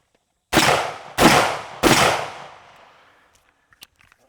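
Rifle gunfire during a barricade shooting drill outdoors: three loud, sharp shots evenly spaced about two-thirds of a second apart, each trailing into a long echoing decay, followed by faint clicks and clatter.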